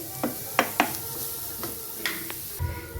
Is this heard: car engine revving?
no